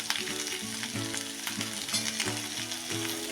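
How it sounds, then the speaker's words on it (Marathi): Potato vegetable sizzles and crackles in a hot pan as it is stirred, producing a dense, close frying hiss with rhythmic scraping strokes and no voices. "आता एकसारखी ही आपण भाजी परतून घेऊया"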